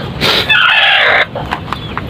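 A native chicken lets out one long, loud call, then a few short, sharp clucks follow at close range.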